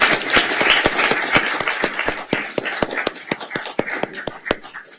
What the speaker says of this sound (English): Yes, we can clap for that one.